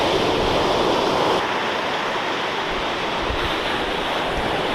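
Ocean surf rolls in steadily at Ormond Beach, Florida, a continuous broad wash of waves with wind buffeting the microphone, loud and unbroken with no voices.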